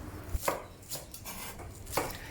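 A knife chops scallion into thin rings on a cutting board, three or four distinct close knocks spaced about half a second apart, with no talk.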